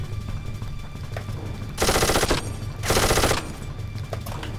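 Turret gunfire in the Darkest of Days video game: two loud, rapid bursts of automatic fire, each lasting about half a second, stand out against a low ambient hum.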